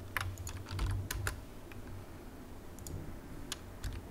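Computer keys clatter in short irregular bursts, crisp clicks clustered at first, then scattered taps after a pause, close and fairly quiet.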